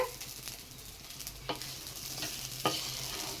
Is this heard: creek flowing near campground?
no